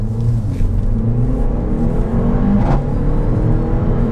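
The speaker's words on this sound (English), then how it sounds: "I currently have it in sport. It livens up a little bit, it holds its shifts a little bit longer." A Mercedes-AMG CLA45 in sport mode pulling hard, its engine droning with a steady low rumble and rising whir heard from inside the car, loud and continuous with no voices.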